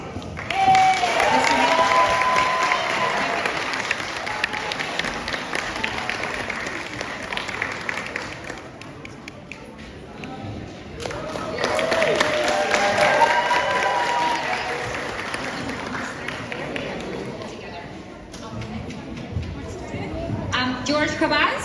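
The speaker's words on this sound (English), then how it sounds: "your big round of applause" Audience applause at a certificate ceremony during a World Refugee Day event, a steady crowd of clapping that swells in two waves with a brief lull between them.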